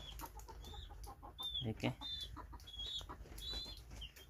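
A rooster and hens cluck and chirp close by in a winter poultry setting, with short, repeated clucks and higher calls scattered over low background rumble, and a brief spoken word in between.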